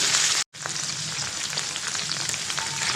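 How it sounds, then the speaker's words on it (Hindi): Okra (bhindi) fries briefly in a pan, producing a close, loud, continuous frying sizzle with faint stirring, interrupted by a short gap near the start. "इसको हमने बहुत ज़्यादा फ्राई नहीं करना, इसका कलर जो है वो हमें ग्रीन ही चाहिए, तो हमने इसे थोड़ी देर तक फ्राई करना"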